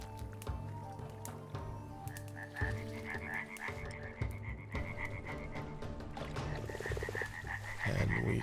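Frogs croak repeatedly in the farming-survival video game Clanfolk. Rhythmic croaks repeat over a layer of steady tonal game music and ambience, at moderate loudness throughout.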